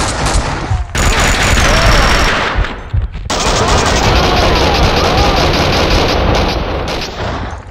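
Rapid automatic gunfire from the video game Max Payne 2, loud and sustained bursts with brief gaps, mixed with game action noise and a shouted voice.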